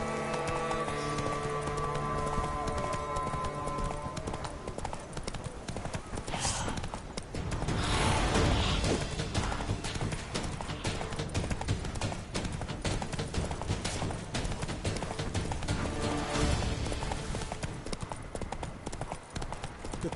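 Horse hooves clip-clopping at a steady gallop in the Witcher 3 video game, a continuous rhythmic drumming that stays loud and close throughout, with game music and effects beneath and a brief whinny-like swell midway.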